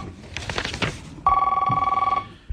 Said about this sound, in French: je vais passer un coup de téléphone.